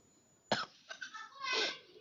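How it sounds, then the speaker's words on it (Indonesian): A single sharp cough bursts out, followed by a couple of smaller rough coughs and a throaty exhale, close and fairly loud. "Batuk gua."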